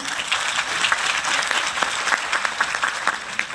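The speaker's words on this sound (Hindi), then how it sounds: "तालियां हो जाए।" Audience applause during a motivational success-story talk, a dense steady crowd clapping throughout at moderate loudness with no voices.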